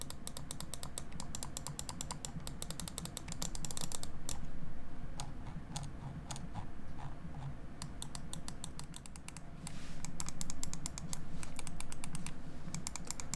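Rapid, crisp clicking of the small front buttons on an Aukey GM-F1 gaming mouse, pressed in quick irregular bursts with brief pauses, close and fairly quiet over a low background hum.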